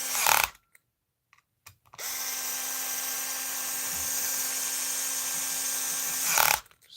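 A Genesis 7.2V cordless drill driving screws whirs steadily for several seconds at close range, with a brief spin-up just before and a louder burst as it stops.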